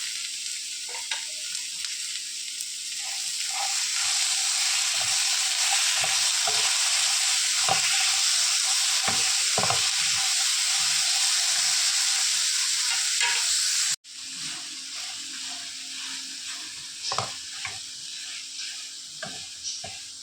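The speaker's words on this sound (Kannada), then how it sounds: "ಈರುಳ್ಳಿ ಸ್ವಲ್ಪ ಫ್ರೈ ಆಗುವಾಗ ಟೊಮ್ಯಾಟೊ ಹಣ್ಣು ಹಾಕು." Onion and tomato fry in a pan for Mangalorean kadale gasi, a loud, steady sizzle close by with scraping stirs scattered throughout; the sizzle drops sharply partway, then carries on more softly with occasional stirring.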